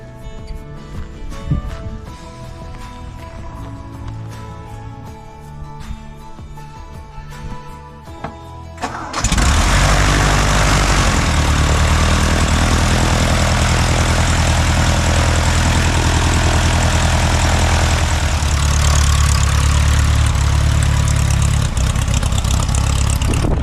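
A light aircraft engine is primed, then turns over and catches after some quieter clicks and handling noises, then runs on at a loud, steady idle.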